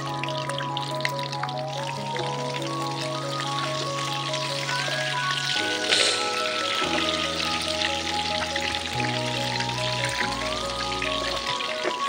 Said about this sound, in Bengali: একে একে পকোড়াগুলো ভাজার জন্য তেলে দিয়ে দেবো।